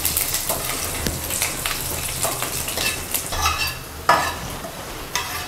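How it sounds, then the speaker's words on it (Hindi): Garlic frying in hot oil with mustard seeds and cumin, a busy continuous sizzle with crackling pops and scraping stirs of a spoon against the pan, loud and close, with no talking. "लहसुन को अच्छे से फ्राई हो देना है।"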